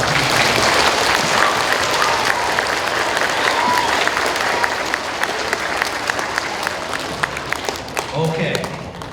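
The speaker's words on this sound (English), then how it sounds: "How about a round of applause for our teachers?" A school audience applauds its teachers at a book-reveal event, loud sustained clapping from a crowd across the whole stretch, with scattered sharper claps standing out and faint voices mixed in.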